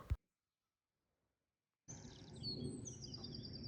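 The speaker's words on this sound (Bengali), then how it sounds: "নিস্তব্ধতার মধ্যে শুধু শোনা যাচ্ছে পাখির ডাক" Birds sing in quiet, green Cotswolds countryside in early morning, thin high chirps and whistles over a low outdoor rumble, starting after a brief thump and near-silence and continuing softly to the end.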